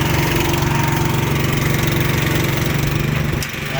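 A small engine drives a wheel line irrigation mover rolling across a hay field, a loud, steady, throbbing drone close by that dips slightly near the end.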